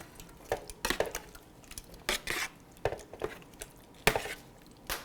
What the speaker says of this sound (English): So I'll come in after the tongs and use a rubber spatula